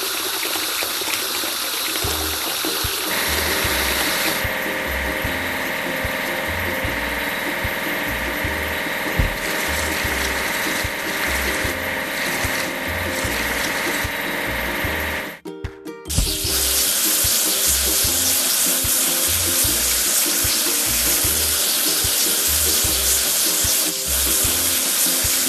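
Steady water spray from a vehicle-washing tool in a children's truck and tractor video game, a continuous hiss with a rhythmic mechanical pulsing underneath and a brief dropout partway through, then a louder spray.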